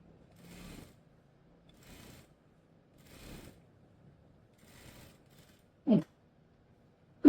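A sewing machine stitches a frock in several short, quiet bursts of rhythmic mechanical whirring separated by pauses, followed by two sharp, louder clicks near the end.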